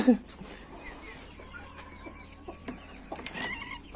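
A hen that lays shell-less eggs clucks softly in short bursts close by, with faint background rustling and a few sharper calls near the end.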